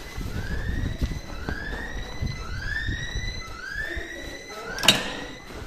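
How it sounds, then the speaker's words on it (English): An alarm system in a telephone exchange building gives off a funky, repeating electronic alarm: rising, siren-like sweeps that recur steadily over a background hum, with a sharp bang or knock near the end. "this telephone exchange has a very funky alarm."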